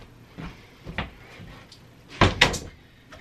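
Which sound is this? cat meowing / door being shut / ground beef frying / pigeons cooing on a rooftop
door being shut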